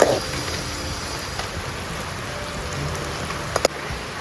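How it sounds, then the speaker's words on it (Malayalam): Continuous monsoon rain falls steadily, a broad even hiss with a few faint knocks and a soft clink near the end. "നല്ല മഴ പെയ്തുകൊണ്ടിരിക്കുകയാണ്"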